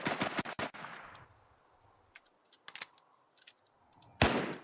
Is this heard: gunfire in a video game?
yes